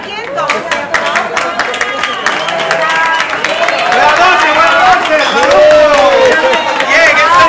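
A crowd breaks into sustained clapping and cheering, steady and fairly loud, with voices chattering over the applause.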